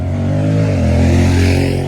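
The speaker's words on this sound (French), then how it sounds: "y a juste une moto qui est passée, tu m'excuseras." A motorcycle passing close by outdoors at night, its steady engine drone loud and sustained, the pitch sliding slightly downward as it goes past.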